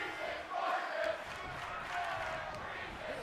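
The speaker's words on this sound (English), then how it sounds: "the crowd chants that Breeze is gorgeous" Wrestling arena crowd chanting that Breeze is gorgeous: a far, reverberant mass of voices in a steady rhythmic chant, moderately loud and continuous.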